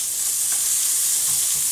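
Chopped meat scraps sizzle and fry in a hot pan with olive oil, a steady close hiss with a few faint stirring touches and no talking.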